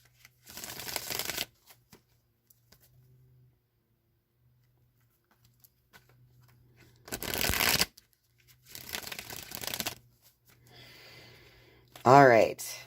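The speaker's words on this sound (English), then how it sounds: "I'm going to shuffle the Rider-Waite deck a few times" A Rider-Waite tarot deck shuffled by hand in several separate bursts of quick, close riffling card sounds, with quiet gaps between them and a brief voice near the end.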